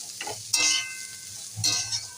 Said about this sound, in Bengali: কত সুন্দর করে এটাকে আমি ভেজে দিলাম